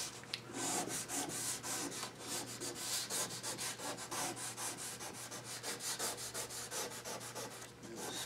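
A hand-held sheet of sandpaper works along the molded edge of a cherry wood frame, quiet rhythmic rasping strokes repeating steadily back and forth at close range.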